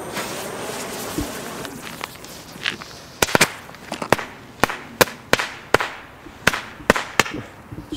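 A jumping frog firecracker goes off outdoors, a faint hiss first, then a rapid run of sharp, loud cracks and pops at irregular intervals, close by.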